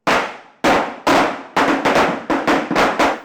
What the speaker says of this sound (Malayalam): പിന്നീട് പടക്കം പൊട്ടിച്ചുള്ള ആഘോഷമാണ്